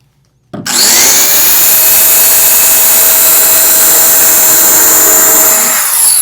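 A power tool starts suddenly and runs loud and close for about five seconds, a steady high whine as it cuts out a piece for a costume, then winds down.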